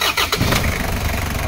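A Mazda Bongo with an R2-RF engine, which has a fault that cuts the engine when the horn is pressed, cranks and fires up, settling straight into a loud, close, steady idle.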